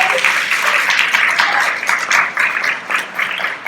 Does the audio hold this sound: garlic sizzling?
no